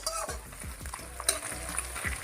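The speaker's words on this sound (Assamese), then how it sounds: "গেছটো বহাই ল'ব আৰু বহাই লৈ পেলাই তো ভালদৰে ফ্ৰাই কৰিব" Ingredients for homemade chicken chow mein fry in a hot pan on a gas stove, a close, steady sizzle broken by repeated scraping stirs of a utensil, with no voices.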